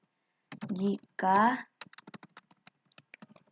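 Someone types on a computer keyboard, producing a run of quick, irregular key clicks close by. A short burst of speech comes first, then the clicking continues alone.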